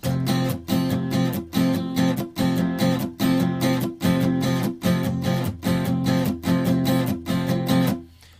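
Acoustic guitar strummed in a steady, fast rhythm with palm-muted, choppy accents, repeating chord pattern played alone and up close before stopping.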